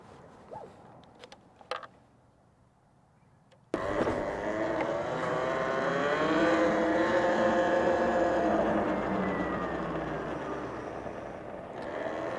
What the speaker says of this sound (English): let's get on this new Talaria Sting R, take it for a rip